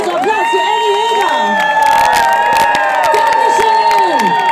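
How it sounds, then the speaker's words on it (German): A large crowd at a Pride street event in Munich cheers, whoops and claps loudly, with shrill high voices and sustained shouting carrying over scattered applause. "Also Applaus für Annie Heger!"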